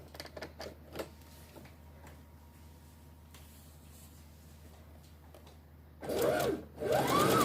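A sewing machine stitches a homemade fabric face mask in two short, whirring runs near the end, after some quiet handling noises.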